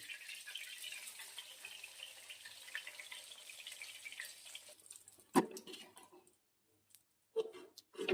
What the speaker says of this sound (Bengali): হালকা হাতে ভাজতে হবে ছোট ছোট নানপুরি।